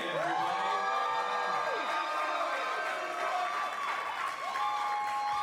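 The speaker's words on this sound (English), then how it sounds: "Round of applause for the one and only Kwame, everybody." An audience at the National Hip Hop Honors applauds and cheers for Kwame, with loud, continuous clapping, whoops and crowd noise under voices and tonal sounds throughout.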